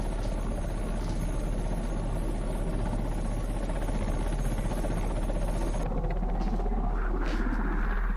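A helicopter used by BSF crews in a flood rescue drones loudly and steadily, its engine buzz and rotor hum filling the scene without pause and brightening slightly near the end.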